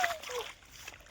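A child splashes in irrigation water on a farm: one quick splash at the start, then quieter sloshing.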